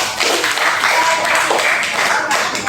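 A room of people applauds after a song performance at a teacher certification practice session, a dense wash of clapping that holds steady for a few seconds without talk.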